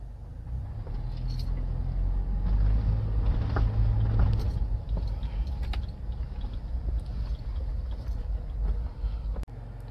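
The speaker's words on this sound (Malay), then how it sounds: "sekarang kita nak test drive Toyota Fortuner" A 2010 Toyota Fortuner 4x4 SUV on a test drive, with a steady low engine and road rumble heard from inside the cabin, slightly louder in the middle and then settling.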